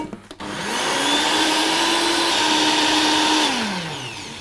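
A kitchen blender purees ingredients with three heaping spoonfuls of yogurt, its loud, close motor rising to a steady whirring hum for about three seconds before spinning down.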